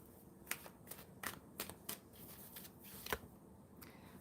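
Tarot cards are shuffled and drawn, heard as faint, soft riffling taps and flicks that repeat irregularly in a very quiet room.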